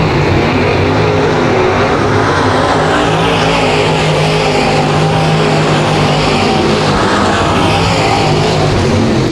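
Dirt track late model race cars roar through a RUSH heat race at the Dirt Track at Genesee: loud, continuous engine noise with rising and falling revs as cars pass, with no talk.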